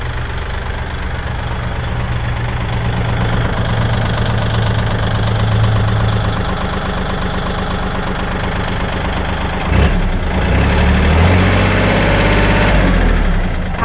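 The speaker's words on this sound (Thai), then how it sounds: "เดี๋ยวเราไปดูการทำงานของเทาปั่นนะคะ" A used 2019 Kubota L4018 tractor with a three-disc plough and front blade idles steadily with a loud, continuous diesel rumble, its rotary tiller engaged and a clattering change near the end.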